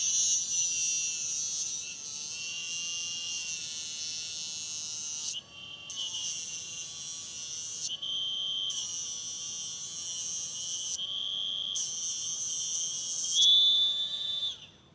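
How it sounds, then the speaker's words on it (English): A tungsten electrode for TIG welding is ground to a point on a spinning grinder: a loud, steady high-pitched whine broken by short gaps as the tip is lifted away and pressed back, with no talking. "I'm just gonna sharpen the tungsten real quick"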